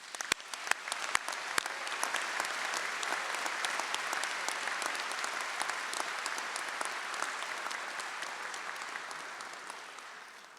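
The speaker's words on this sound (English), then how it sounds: "Can we please have a round of applause for our graduate faculty?" An audience at a doctoral hooding ceremony gives the graduate faculty a round of applause. A few sharp, distinct claps open it, then a full, sustained clatter from many hands holds steady and eases off slightly at the end.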